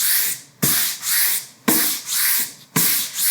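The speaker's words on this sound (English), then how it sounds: "I'm gonna take a sanding block with a really fine grit sandpaper" Fine-grit sandpaper wrapped on a sanding block rubs back and forth across a painted wooden sign in three long, steady strokes, each starting with a sharp scrape. The sound is close and rasping, with no talk.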